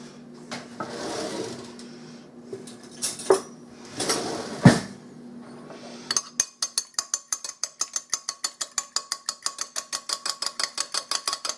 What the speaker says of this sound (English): You're gonna get one beat egg that I'm about to beat.